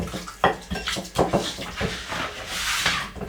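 A spoon scrapes and knocks as masala-coated food is stirred in a pan, making several close, uneven clatters and swishes over a few seconds.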